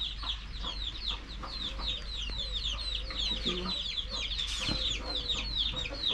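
Chickens cluck steadily in a village coop, a dense chorus of overlapping clucks and chatter close by, with a constant low background hum underneath.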